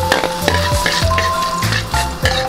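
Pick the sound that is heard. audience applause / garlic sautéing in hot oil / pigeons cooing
garlic sautéing in hot oil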